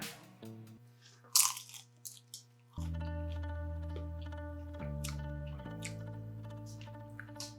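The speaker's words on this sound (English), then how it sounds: "You hear that crunch?" A bite into a crispy Lao eggroll gives a short burst of sharp crunches, with a couple of smaller crackles, all over light background music.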